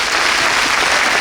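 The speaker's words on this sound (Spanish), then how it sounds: "Fuertes aplausos para Gabriel, para Marcelo." An audience at a teachers' congress claps loudly and continuously, a dense, even wash of applause from a crowd at close range with no pauses.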